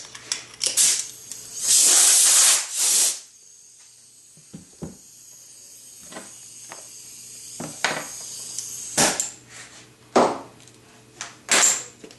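Compressed air blasts dust off a sanded fog light before priming, several loud hissing bursts of a few seconds each, separated by quieter gaps with small clicks and handling noise.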